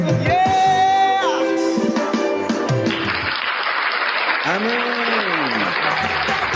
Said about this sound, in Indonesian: Tepuk tangan sama-sama bagi Tuhan Yesus.